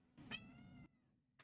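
Luna, a pet cat, gives one drawn-out meow, close and clear, followed by a brief faint chirp a moment later; no talking.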